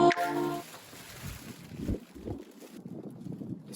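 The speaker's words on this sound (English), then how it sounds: "Oh, this wind is so annoying." Gusty outdoor wind buffets the microphone during car engine-bay cleaning on a Mk2 SEAT Leon FR, a steady low rumble with uneven swells throughout, following a short tonal sound at the very start.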